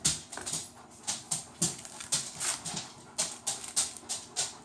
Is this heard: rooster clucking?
no